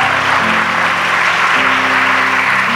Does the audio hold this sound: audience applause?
yes